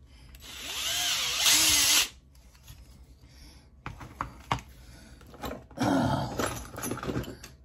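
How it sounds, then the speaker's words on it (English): A power drill whines loudly for about two seconds while insetting a screw on a Crosman 1322 air pistol, then handling clicks and taps follow before a second short burst of drilling. "We're going to have to inset the screw a little bit with a drill."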